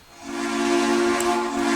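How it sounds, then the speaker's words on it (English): Steam locomotive whistle of Southern 630 in the Trainz railroad simulator game: a single sustained, steady chime-like blast that swells in and holds loud throughout, with a hissy edge. "So let's listen to the whistle again."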